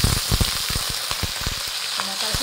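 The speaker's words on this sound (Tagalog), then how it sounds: "ilagay na natin itong ating kamaron. Tumatalsik pa mga kapangit." Shrimp fry in a hot pan with browned onion and garlic, a loud steady sizzle with sharp popping splatters throughout, close to the listener and without talk.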